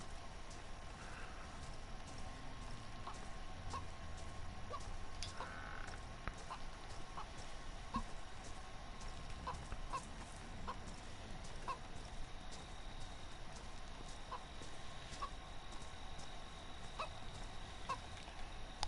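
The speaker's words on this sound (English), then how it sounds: "Hello, chicken." Soft, repeated clucks of a chicken in the survival video game DayZ, faint and intermittent over a steady ambient background hiss.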